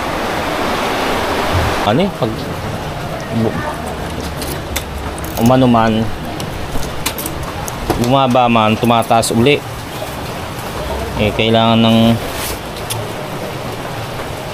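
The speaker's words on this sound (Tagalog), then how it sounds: "Lakas ng ulan, ayaw pa rin tumigil." Steady broadband rain roar fills the whole clip, heavy and continuous, with people talking over it in short bursts.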